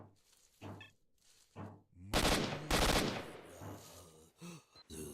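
Rapid automatic gunfire in STALKER: Shadow of Chornobyl, several short bursts and then two long dense bursts of fast shots, fairly close, separated by brief pauses.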